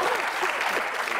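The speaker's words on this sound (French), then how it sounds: "Applaudis ça encore, s'il te plaît." A studio audience on a French-language television dating game show applauds steadily and fairly loudly throughout, a continuous patter of many hands with a faint voice underneath.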